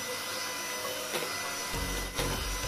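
An electric mixer whirs steadily, beating pumpkin apem batter as coconut milk is added, a continuous motor whine that shifts in tone partway through as the beaters work the thickening mix.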